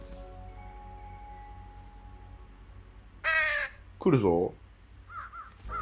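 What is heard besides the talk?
crows cawing while scavenging trash in Trüberbrook video game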